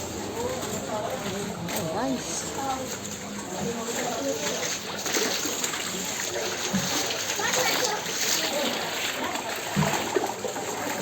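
Floodwater at high tide splashes and sloshes continuously close by in Malabon, with voices and children talking underneath the churning water.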